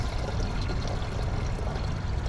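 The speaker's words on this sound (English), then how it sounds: "now we're gonna pour that" Descaling fluid mixed with water pours steadily into a boat engine flush tank, a continuous close-up splashing rush that stays even throughout, with no talk.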